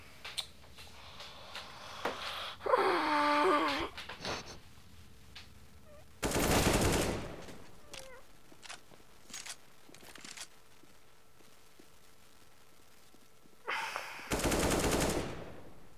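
Gunfire in the video game CS:GO, with two loud sustained bursts of automatic fire a few seconds apart, plus scattered clicks and quieter game effects between them.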